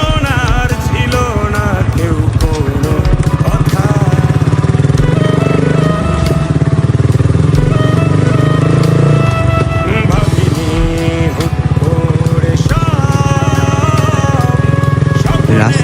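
A motorcycle rides a broken, rough road on a foggy day, its engine droning loudly and steadily throughout with shifting revs, while a voice speaks over it.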